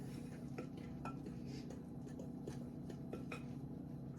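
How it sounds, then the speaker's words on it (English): A spoon stirs a mixture in a bowl, with quiet repeated clinks and scrapes at a steady rhythm over a low background hum. "mixing it so it's well mixed"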